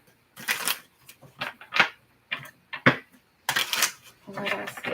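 Repeated bursts of tarot cards being shuffled up close, short riffling rustles in uneven rhythm with brief pauses between them.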